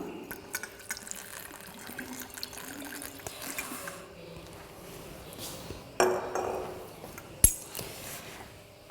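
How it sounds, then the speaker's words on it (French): Water poured into a reaction vessel during a benzoic acid synthesis with potassium permanganate in basic solution, a steady, soft splashing stream close by with a few brief louder gushes near the end. "je vais ajouter donc 100 ml d'eau, voilà."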